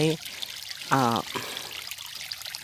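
Water carrying tadpoles drains out through a pipe in a steady trickling pour, with a brief voice sounding over it.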